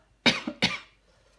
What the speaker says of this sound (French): Pardon, je tousse encore un peu.